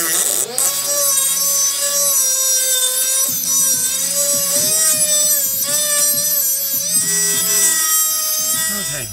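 Power tool cutting inside the door panel of a 2001 Ford Windstar minivan during a window regulator replacement, a loud close whining grind with rising and falling pitch and uneven rasping bursts, continuous for the whole stretch.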